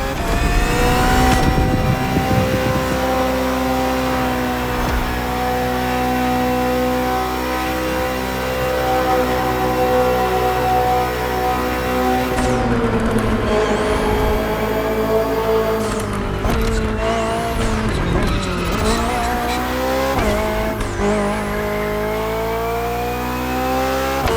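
A BMW M Hybrid V8 endurance race car from 2023 is driven in the video game Motorfest, its engine revving loud and continuously with rising and falling pitch through gear changes and hard acceleration.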